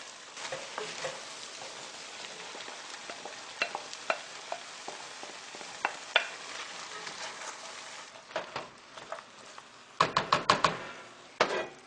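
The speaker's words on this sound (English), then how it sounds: "I'm going to add the garlic now. Carrots and celery." Garlic, carrots and celery sizzle and crackle steadily in a beef stew pot, with scattered stirring knocks and a cluster of sharper clatters near the end, heard close up with no talking.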